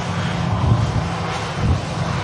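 Steady engine roar from an EasyJet Airbus A320 taxiing at Manchester Airport on a windy day, swelling slightly twice as it rolls along.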